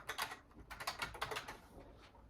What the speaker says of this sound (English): So I can start typing now.